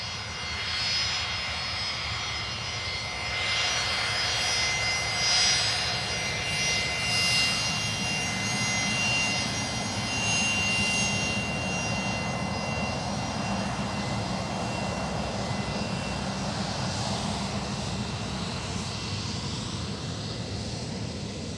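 A Virgin Australia Regional airliner taxiing on Alpha at Perth Airport, its engines roaring steadily and loudly with a broad whine that rises and falls slightly over a long continuous stretch, no voices.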